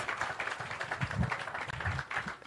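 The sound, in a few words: audience applause for students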